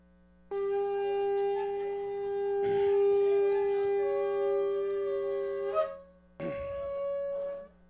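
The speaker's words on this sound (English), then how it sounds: "if you want to blow the shofar one more time" A shofar sounds in a Rosh Chodesh Adar gathering, one long steady blast of about five seconds that breaks upward at the end, followed by a second shorter blast after a brief pause.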